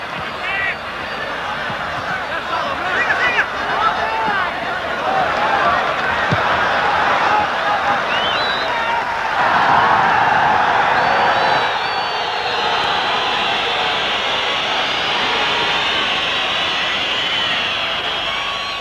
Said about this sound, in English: Capacity crowd here, and as you can hear all around us, making a tremendous amount of noise